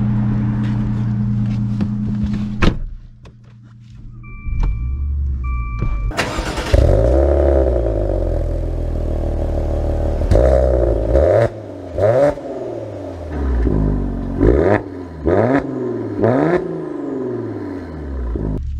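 A 2023 Maserati Ghibli Modena pulls away and drives, its engine droning and then rising in repeated revving surges as it accelerates through gears, heard loud and close from the cabin with no talking.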